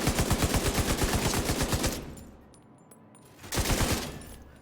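An LMG light machine gun in The Division 2 fires a loud rapid sustained burst for about two seconds, pauses, then lets off another brief burst, with no talking.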